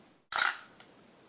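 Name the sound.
SLR camera shutter being pressed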